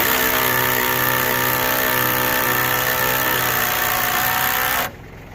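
A power driver runs GRK structural lag bolts into lumber while a roadside stand is built, a steady loud motor whine held for nearly five seconds before stopping abruptly, with no talk.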